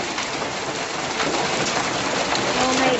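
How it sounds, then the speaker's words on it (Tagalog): Heavy freezing rain pours down in a dense, loud, continuous hiss, steady and close, building slightly toward the end. "Oh, lakas ng ulan."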